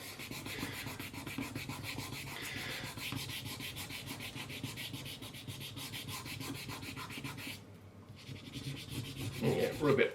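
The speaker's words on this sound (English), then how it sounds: "rub it down with your fingernail and then peel the backing off, or the top off, carefully" A fingernail rubs steadily back and forth over a decal on a 2024 Bell GP3 carbon helmet, a close, continuous dry scratching that breaks off briefly before resuming.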